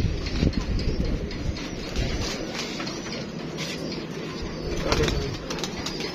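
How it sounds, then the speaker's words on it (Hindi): Pigeon cooing among a flock of pet pigeons, faint soft coos under steady ambient noise with voices talking nearby. "देखें माशाल्लाह, ये कबूतर है।"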